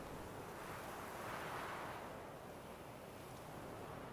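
Water waves wash in the video game The Witcher 3, a steady, soft broadband surf rush with a gentle swell in the middle, faint and continuous, with no voices.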